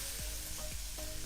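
Chili stirred into a frying coconut curry sauce gives a soft, steady sizzle with three rhythmic scraping strokes of a spoon against the pan, faint and close.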